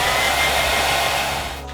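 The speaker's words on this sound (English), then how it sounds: "This is your hair dryer." A hair dryer blows in a steady, loud, close whoosh with no voices, used while spray painting a car panel, before it cuts off at the end.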